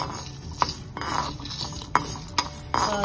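A spoon scrapes and clinks against a pan as whole spices—cinnamon, cloves, cardamom, mustard seeds and cumin—are stirred while dry roasting, with a handful of sharp metallic knocks over soft rustling.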